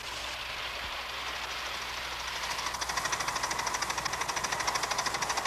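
A model railroad steam engine runs along its track, a low rumble building into a fast, even clickety chuff that grows louder and more rhythmic as it draws near.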